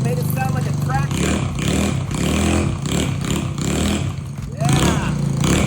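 A car engine idles steadily at the tailpipe after a broken exhaust bolt repair, giving an even, continuous exhaust rumble with no ticking or popping, while people talk over it.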